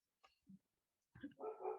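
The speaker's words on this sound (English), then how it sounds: "I apologize about the dogs in the background." Dogs bark in the background during a remote talk, a short yip near the start followed by a louder burst of barking that fills the final second, with no one speaking over it.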